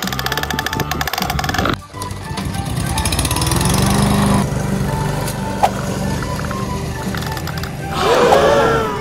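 A small toy lawn mower runs with a loud, steady buzzing engine-like hum, cutting off briefly and then resuming, while a child and an adult talk excitedly nearby.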